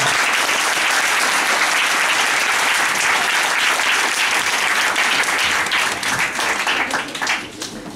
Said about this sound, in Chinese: 所以我们先为他们两个人特别掌声。